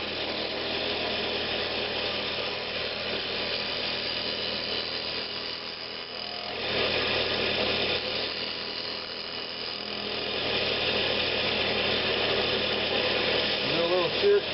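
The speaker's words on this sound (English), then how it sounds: "This is mainly just a pulling cut." A woodturning lathe hums continuously as a tool makes a pulling cut on a wooden winged box, a steady scraping whir that swells slightly toward the end.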